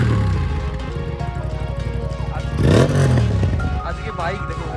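A Kawasaki Ninja 300 idles with a dB killer fitted in its exhaust, giving a loud, steady, close engine drone that swells briefly with a quick rev midway through.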